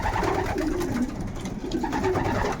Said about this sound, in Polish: Wesoło gruchają.